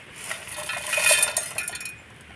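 Roasted chickpeas, peanuts, two pieces of ginger and a green chilli tip into a kitchen mixer jar, giving a short burst of light clinks and rattles that builds and fades over about two seconds, close by with no talk.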